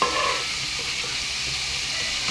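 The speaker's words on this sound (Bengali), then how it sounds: "এগুলোকে ভালো করে ভাজা ভাজা করে নিচ্ছি" Spices fry in a pan for green banana kofta, giving a steady, even sizzle with light stirring, close and continuous without any talk.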